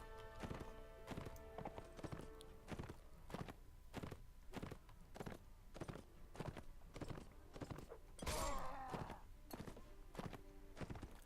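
Horses in Mount and Blade Warband galloping in a desert bandit battle, a steady run of close, sharp hoofbeats throughout, with a brief burst of louder clashing noise near the end.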